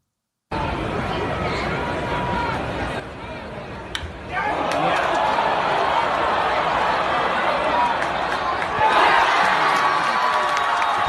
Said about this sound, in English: Pretty good reaction right there from the road crowd for Miguel Cabrera hitting a home run.